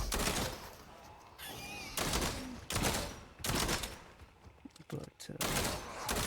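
Primal gun firing in the Fortnite Save the World video game, a rapid series of loud shots in bursts, with someone talking over and between the gunfire.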